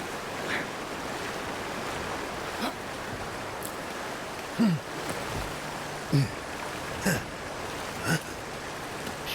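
Waterfall rushing in the video game Avowed, a steady wash of water noise in the background, punctuated by a few brief louder tonal blips and soft clicks.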